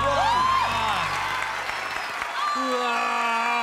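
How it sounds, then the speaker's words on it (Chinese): Applause from a television variety-show studio audience swells briefly in the middle of the clip after a strongman's head-balancing feat, with exclaiming voices and musical tones before and after. "掌声鼓励！"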